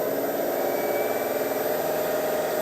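A Coronet Herald wood lathe, not fixed to its bench, runs at about 500 rpm. It makes a steady, quiet, even mechanical hum with a faint tonal whine and no speech.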